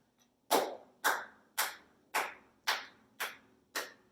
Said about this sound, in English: So you can try to clap with me on the beat.